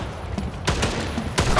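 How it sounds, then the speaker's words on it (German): Support fire in a multiplayer 5v5 PC shooter game: a volley of sharp gunshot bursts rings out in quick succession over a busy background, with two clustered groups of loud cracks. "Unterstützungsfeuer gestartet!"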